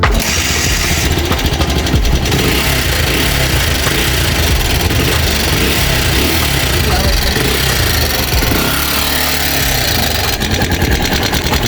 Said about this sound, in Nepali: आवाज त आइरह तर कहाँबाट आइरह भन्ने? इन्जिनबाट आइरह?